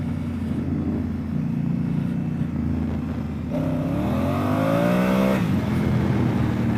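A 2017 Honda Africa Twin motorcycle revving hard while its rear tire spins in wet dirt off-road, a loud steady engine drone that climbs in pitch as the throttle opens, close by with no talk.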